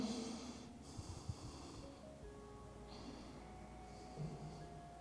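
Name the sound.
deep breathing during yoga forward bend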